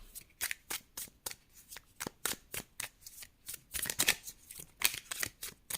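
A deck of tarot cards riffled and shuffled by hand, a rapid run of crisp flicking bursts in a fairly even rhythm, close and clear with no talk.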